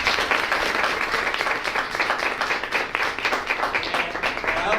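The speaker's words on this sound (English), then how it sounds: "I think Speaker Johnson deserves a round of applause for that." A round of applause for Speaker Johnson at an event for the Weeksville Heritage Center, steady crowd clapping close by, with no voices over it.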